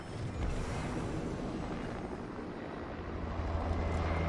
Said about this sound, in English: Either helicopters coming.